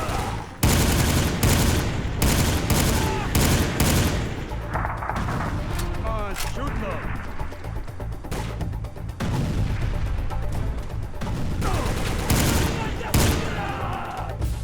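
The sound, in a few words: gunfire and explosions in video game Soldier of Fortune: Payback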